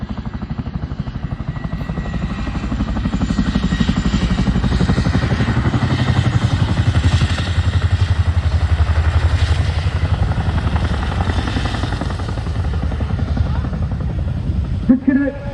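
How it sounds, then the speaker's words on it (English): A Chinook twin-rotor military helicopter thunders steadily nearby with a deep, pulsing rotor chop and engine roar that hold for the whole stretch, ending in a few brief clatters. "The Chinook is an incredible aircraft."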